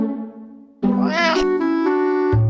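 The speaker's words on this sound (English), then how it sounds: "A low meow is a complaint or indication of dissatisfaction." A cat meows several times up close, loud and clear with no talking: a short call, then a longer drawn-out meow that rises and bends in pitch, then a lower sustained cry.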